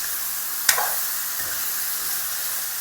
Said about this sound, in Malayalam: നല്ല ഹൈ ഫ്ലെയിമിലിട്ടിട്ട് വേണം നമുക്കിതിനൊന്ന് വഴറ്റാൻ.